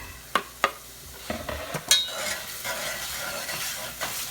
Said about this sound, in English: I've also chopped up a small yellow onion, and I'm gonna go ahead and put that in there